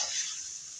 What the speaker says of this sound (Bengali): দেখো পনিরগুলি এখন একটু আবার নেড়ে চেড়ে আমি পনিরগুলির মধ্যেও একটু লবণ হলুদ দিয়ে দিচ্ছি